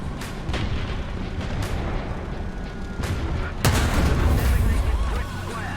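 Tank gunfire in an M1A2 SEP TUSK combat video game, with heavy booming cannon shots and repeated blasts over a constant rumble of battle; a loud close report lands near the middle.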